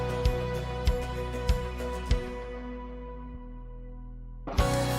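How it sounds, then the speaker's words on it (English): A worship cover song drops into a break where a deep sub bass sustains under fading repeated hits, before the full music crashes back in at the end. "There's a sub bass going on"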